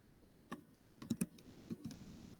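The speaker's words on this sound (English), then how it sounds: "punch the stick into the readout unit and then start typing." Typing on the keyboard of an orienteering readout unit, a few soft scattered key clicks close by against a quiet background.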